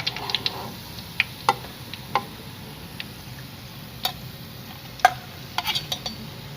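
Potato bread rolls fry in hot oil with a faint, steady sizzle, broken by scattered soft ticks and pops and one or two louder crackles, with no voices.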